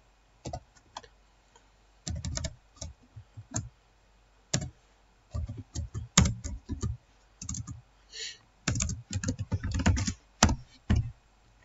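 Computer keyboard typing in irregular bursts of close, crisp key clicks with short pauses between, heard alone while writing program code.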